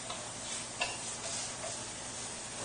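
Braised beef browning in a pot for a crockpot stew gives a faint, steady sizzle, with a soft clink or stir near the middle.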